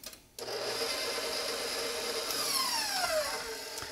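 Electric stand mixer with a whisk attachment whipping cream into stiff peaks, a steady loud whirring drone that starts abruptly and runs without pause, a rising whine sweeping through it near the end.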